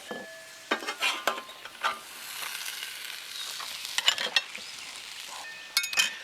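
A metal spatula scrapes and clinks as huevos rancheros fixings are scooped off a hot Blackstone portable griddle into a bowl, bursts of scraping over a faint sizzle, close and intermittent.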